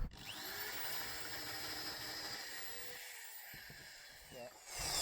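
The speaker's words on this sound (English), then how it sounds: "if you're drilling through wood, always support it underneath, and saves any tear out" A power drill bores steadily through a wooden beam in a 600-year-old French château, the board supported underneath, with a continuous whining grind and a voice talking over it before the drilling stops.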